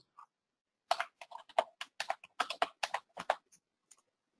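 Close, crisp keystrokes on a computer keyboard as an IP address for a Siemens SIMATIC S7-1500 PLC is entered, a rapid irregular burst of about a dozen clicks after a single early tap, with no voices.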